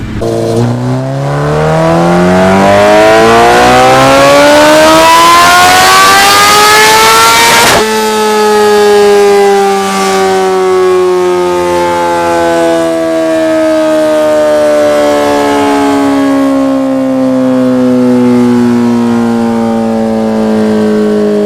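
A Kawasaki Ninja H2 superbike screams on a dyno, its engine note climbing steadily through a long hard pull, then dropping and winding down for many seconds afterward as the revs fall, loud and close.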